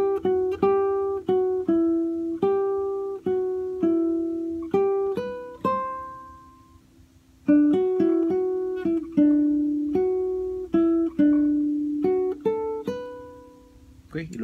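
Single-note guitar melody phrase from a song, played alone as clear plucked notes in a steady rhythm, with a brief pause midway before the phrase continues.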